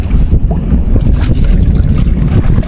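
Strong wind roars and buffets the microphone in loud, continuous gusts while out fishing from a boat, with no voices.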